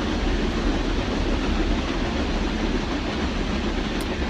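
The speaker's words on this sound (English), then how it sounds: "We're going to pause here for station identification for the Amtrak train" A passing Amtrak train heading out of New York City makes a steady, dense, broadband roar that stays loud and constant throughout, with no speech.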